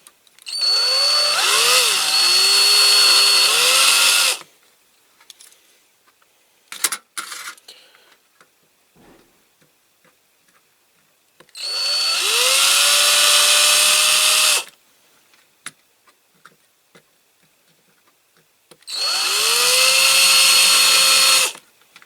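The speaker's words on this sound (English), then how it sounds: "Start with a small drill." Three loud, sustained bursts of a power drill whining at close range, drilling out rivets on a Corgi Marcos 1800 GT die-cast model car, each a few seconds long, separated by quiet pauses with small clinks and taps.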